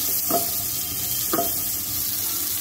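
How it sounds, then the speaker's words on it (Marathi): Onion and potato sauté in Amul butter with cinnamon, cloves and black pepper, giving a steady moderate sizzle with two soft stirring knocks, no talking. "आता दोन्ही ह्या अमूल बटरवर घालून परतून घ्यायचं जरा 1-5 मिनिटं"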